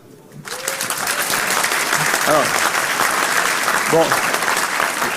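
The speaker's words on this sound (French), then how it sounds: "On applaudit." Audience applause fills a conference keynote hall, a dense sustained clapping that begins abruptly and continues loudly throughout, with brief speech over the top near the start.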